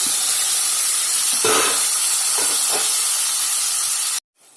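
Chopped tomatoes hitting a hot pan for a dhaba-style kaju paneer curry, loud steady steamy hiss with a few bursts of sizzle and stirring, ending abruptly in near silence.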